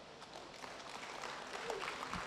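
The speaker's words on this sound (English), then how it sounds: "A big round of applause to Mr. Isaya Yunge" Audience applause following a tech startup presentation in Tanzania, a dense, steady patter of clapping from a crowd that grows slightly louder toward the end.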